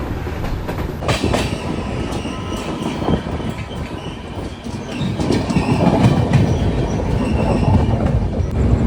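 Sealdah–Jalpaiguri Humsafar Express rolling into the platform at Krishnanagar City Junction, a loud, steady rumble of railcars with rhythmic clickety-clack over rail joints and occasional wheel squeal, close by and continuous.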